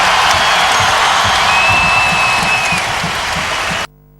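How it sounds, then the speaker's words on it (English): Basketball arena crowd cheers and applauds steadily during a college game, Maryland versus Virginia in 2008, a dense roar filling the space with a faint whistle-like tone partway, then cutting off abruptly near the end. "Listen to this crowd respond to Sean Singletary and his troops."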